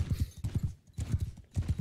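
Horses gallop in the video game Bannerlord, with rhythmic, close hoofbeat clusters repeating in quick bursts over a low rumble.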